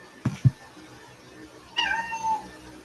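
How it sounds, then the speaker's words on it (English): A cat meows during an online insurance enrollment meeting: two short low sounds early on, then a longer drawn-out meow near the end, clear against a quiet background with no talking. "There's a cat."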